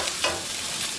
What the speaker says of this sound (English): I'm just going to let those sear on each side